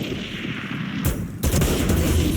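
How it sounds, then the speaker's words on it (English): Odin machine gun in the tactical shooter Valorant firing in a competitive esports match, heavy broadband bursts cutting in around the middle and continuing loud and dense, with no talk. "Blue hitting a headshot through a wall with that Odin"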